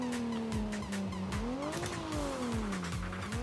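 Video-game car drifting in a free drift game styled after Assetto Corsa, with a steady high engine whine rising and falling as tires squeal continuously through the slide, loud and close throughout.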